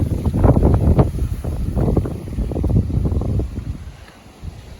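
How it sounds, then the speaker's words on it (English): Strong 45 mph wind gusts batter the microphone in loud, irregular buffeting rumbles that surge and ease over a few seconds, with no voices. "these things have been battered by this wind"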